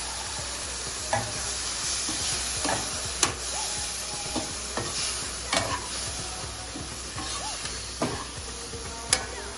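Masala being fried and stirred in a pan for a grandmother-style mutton curry, a steady sizzle with regular scraping strokes of the spoon, close and fairly loud with no talking.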